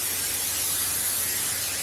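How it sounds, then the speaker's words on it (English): Brief steady hiss of spray oil misted onto a half sheet pan, a soft continuous spray with no talking. "I got a half a sheet pan here. I'm going to spray it with some spray oil."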